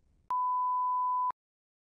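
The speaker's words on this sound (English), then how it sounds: "You may begin preparing after the beep." A single steady electronic beep from a TOEFL speaking practice test, clean and fairly loud, holding one pitch for about a second before cutting off into silence.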